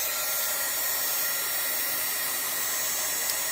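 A heat gun blows hot air onto embossing powder on a holiday tree card, producing a constant loud, even rushing whoosh up close with no break throughout.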